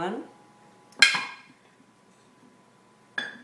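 Mixing bowl for pastry dough being set down on a counter, two sharp ringing clunks about two seconds apart, each with a short metallic decay, following a brief voice.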